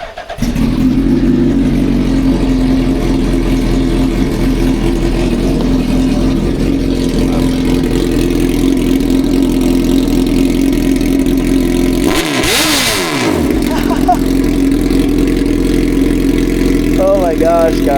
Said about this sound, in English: Take a look at that exhaust. That exhaust is next level.